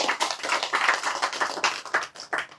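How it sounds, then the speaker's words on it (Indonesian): An audience claps together on request at a public religious talk, a dense, steady burst of many hands lasting a few seconds, close and fairly loud. "Tepuk tangan."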